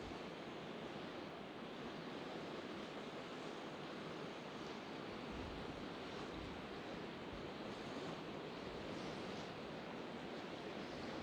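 A river flowing outdoors during an evening meditation by the water, heard as a steady broadband rush of moving water that stays constant throughout with no speech.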